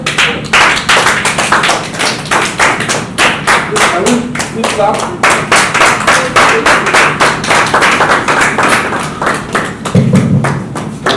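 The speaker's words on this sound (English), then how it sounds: "I'm sure he deserves more clap." An audience at a real estate content marketing talk claps loudly and steadily for a presenter, a dense, sustained stream of overlapping hand claps that carries on for about eleven seconds.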